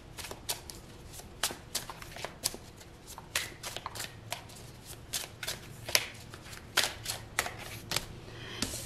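Tarot cards are shuffled by hand, close and quiet, a run of crisp riffling flicks and soft slaps in an uneven rhythm, with no talking.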